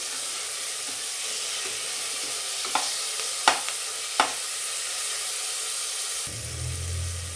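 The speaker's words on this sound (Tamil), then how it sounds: "தக்காளி நல்லா வேகணும்." Tomatoes for a country chicken soup sizzle steadily in a pan, a continuous close frying hiss broken by a few sharp stirring clicks, with the sizzle thinning toward the end.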